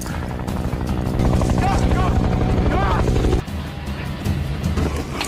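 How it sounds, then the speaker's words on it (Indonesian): A loud helicopter arrives with a heavy, pulsing rotor roar that fills the first three seconds, then drops abruptly to a lower, rougher rumble. "Yang tak lama, mereka malah kedatangan helikopter sehingga"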